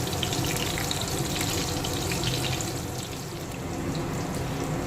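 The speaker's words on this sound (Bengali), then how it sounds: "ভাজা হচ্ছে।" Shrimp frying in a pan for a home-style prawn recipe, giving a steady, close, broadband sizzle and crackle that holds even throughout with no voices over it.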